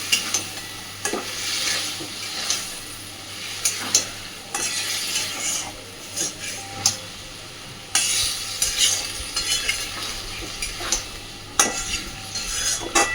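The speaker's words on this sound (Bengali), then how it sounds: "খুব ভালোভাবে এবার মশলার সাথে আলু পটলটাকে চাল দিয়ে সব কিছুকে সুন্দরভাবে কষিয়ে নেব।" Potato and pointed gourd being stirred and sautéed with spices and rice in a pan, a steady sizzle broken by repeated scraping strokes of a spoon against the metal, close and alone without talk.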